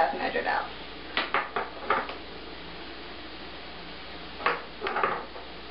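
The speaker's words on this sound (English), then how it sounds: "You want to stir that so that all the vegetables are flavored nicely." Seasoned vegetables sautéing in a pan with curry seasoning are stirred, making a few short clinking and scraping spoon strokes in small bursts over a quiet background hiss.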